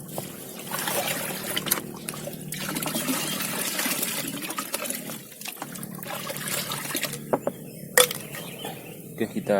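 Fungicide liquid, a 100 ml dose, trickles and pours into a crop sprayer for chili plants, a steady close dribble of liquid with small splashes and clinks, no speech over it.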